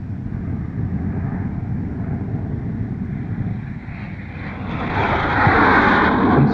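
A North American Aviation F-107 jet takes off down a runway, its engine a steady, loud broadband roar that swells and brightens near the end as the aircraft gathers speed, with no voices.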